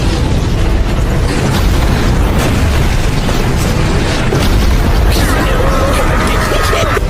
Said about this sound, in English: an explosion interrupts, revealing Saphiro's devastating magic